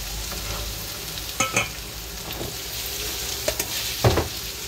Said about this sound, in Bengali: এখানে কাঁচামরিচ আর রসুন ভাজা